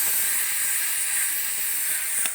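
A BISSELL Steam Shot OmniReach steam cleaner blasting tile grout gives a loud, continuous close hiss of steam with faint clicks, ending in a brief sharper burst.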